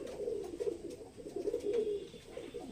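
Pigeons cooing in low, murmuring bursts, several birds close together, fairly quiet with soft background rustle and no talking.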